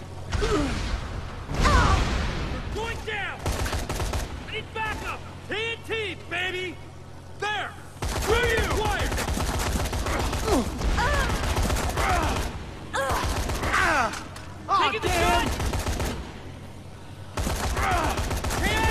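Bursts of gunfire in the zombie video game Dead Rising 3 crack out in rapid volleys with mechanical clatter, loud and close, broken by short pauses, while voices talk over the shooting.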